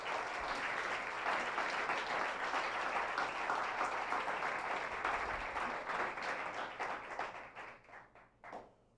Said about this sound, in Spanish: Aplauda la presencia del Señor.